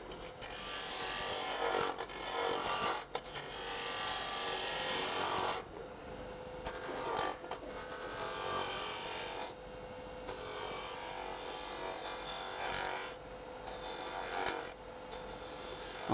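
Wood being turned on a lathe while shaping a pencil box blank toward a cylinder, a continuous rough scraping and hissing of the tool against the spinning wood with a faint motor hum and brief breaks.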